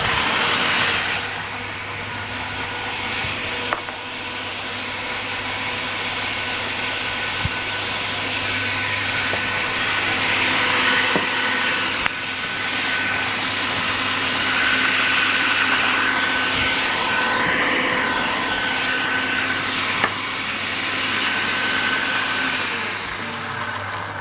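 Chocolate biscuits being ground into crumbs in a food processor for a cheesecake base, a steady loud motorized whir running continuously throughout without pause.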